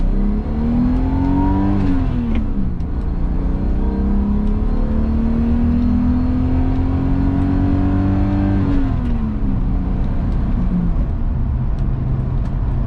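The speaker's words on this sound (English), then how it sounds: "Let's take her all the way to redline." A 1982 BMW 633CSi engine revs up hard toward redline, its rising tone climbing, holding near the top for several seconds, then falling away, loud and close with no talking.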